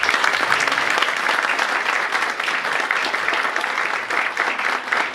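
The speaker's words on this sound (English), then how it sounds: "Please give them a round of applause." Loud, sustained audience applause at a school grand opening ceremony, dense clapping from a large crowd that carries on evenly throughout.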